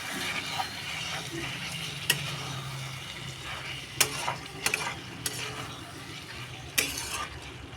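Chicken curry gets stirred in a pan as a spoon scrapes and clinks against the metal at irregular intervals over a low sizzle. The sharp taps are close and distinct.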